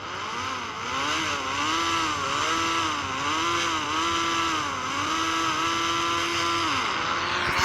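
Elemental car engine racing in the Indian Bike video game, a loud continuous revving drone that rises and dips repeatedly as gears shift, steady and close throughout.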